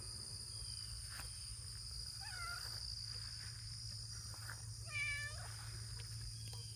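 A cat meows twice, a few seconds apart, over a steady chorus of crickets and a low background hum.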